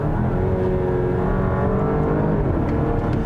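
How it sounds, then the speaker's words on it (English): The base engine of a 2020 Porsche Cayenne Coupe without the sport exhaust hums and rises in a smooth, steady rev with an eight-speed automatic, loud and close, alone without talk. "I just wish the engine had more bark to it in the base engine."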